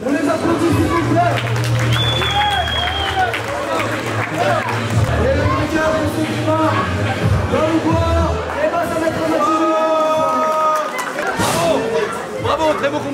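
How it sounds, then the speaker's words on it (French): Crowd at a gym opening in Lyon applauding and cheering fighters after a bout, a dense steady wash of clapping and chatter lasting throughout, with voices mixed into the babble. "On les applaudit s'il vous plaît."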